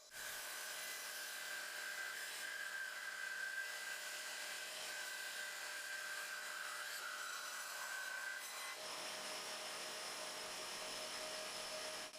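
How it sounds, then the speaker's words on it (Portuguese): A band saw cuts a wavy line through honey locust wood, giving a steady high-pitched whine with a faint rasp for about eight seconds before the tone shifts as the cut ends. No one talks. "na serra de fita, eu corto uma linha ondulada bem no centro dela"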